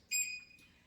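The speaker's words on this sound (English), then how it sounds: "you're going to hear a beep here for it to turn on" A treadmill gives a single short electronic beep as it powers on, a clear high tone with a faint second chirp trailing off, close and alone in a quiet room.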